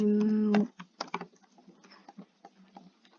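Irregular clicks and taps from a computer keyboard follow a short steady electronic tone, fairly close and moderately loud, with no talk.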